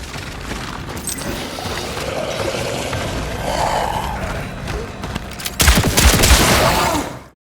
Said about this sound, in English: Listen to the deep punch of the guns and the sound effects from the orphans.